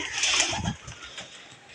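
Soft pigeon cooing murmurs close by in a pigeon cage with nesting birds and chicks, a low rounded call near the start that fades into quieter rustling.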